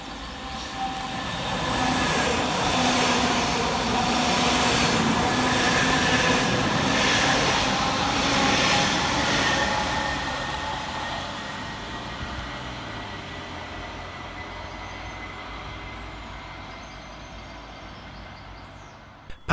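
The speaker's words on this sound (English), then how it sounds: "Whilst passing fast in the opposite direction for Northern is 331-028 and 331-025" Two Northern Class 331 electric multiple units, 331-028 and 331-025, pass fast in the rain, a loud rushing roar with rail clatter that swells, holds for several seconds, then gradually fades into the distance.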